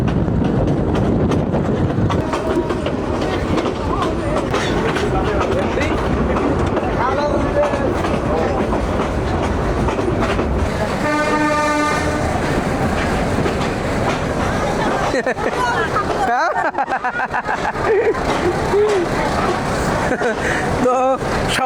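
A slow passenger train on the Kurigram to Chilmari line rumbles and rattles steadily, with clickety-clack from the coaches and a brief squealing screech midway. People talk over the running train.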